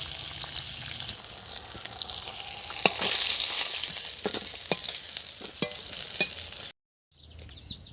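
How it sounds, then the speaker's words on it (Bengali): Fish pieces frying in hot oil in a pan, a steady loud sizzle with scraping stirs of a spatula, breaking off abruptly near the end before resuming more quietly. "বাকি মাছগুলো একইভাবে ভেজে নেব"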